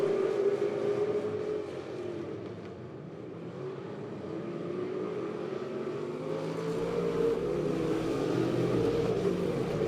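Race cars running bumper to bumper around Lebanon Midway Speedway, a continuous droning roar of engines rising and falling as the pack circles at a distance.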